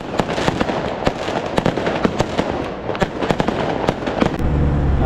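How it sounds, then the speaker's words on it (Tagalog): Fireworks go off at night for Chinese New Year, a rapid irregular string of sharp cracks and pops, some nearer and louder than others, over a constant background rumble. "Nagpa-fireworks sa gabi."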